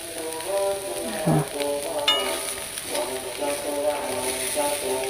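Fried potatoes and soybean chunks are stirred in a pan with a spatula, giving light scraping and an occasional clink over a soft background sizzle, with someone speaking at times.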